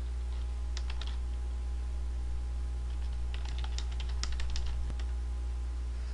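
Typing on a computer keyboard while entering Korean text in Photoshop CS4, with bursts of quick, light key clicks over a steady low electrical hum, close and fairly quiet, with no talking.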